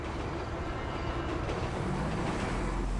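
In a PS4 video game, a train rumbles by close and loud, a continuous heavy roar of railcars with faint rhythmic clatter and no talking.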